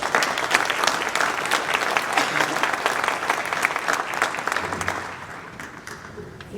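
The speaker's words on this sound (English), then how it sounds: "Please give her a round of applause." School parent night audience in a hall clapping to welcome a speaker, with loud sustained applause from many hands that tapers off toward the end.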